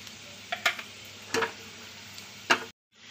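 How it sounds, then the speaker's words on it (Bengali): Two dried red chillies and carom seeds drop into hot oil, giving a faint steady sizzle punctuated by a few sharp ticks and clinks of the spoon or pan, before a brief silence. "তেলটা ভালোভাবে গরম হয়ে গেছে, দিচ্ছি 2টো শুকনো লঙ্কা, আর একই সঙ্গে দিচ্ছি এই যে জোয়ান"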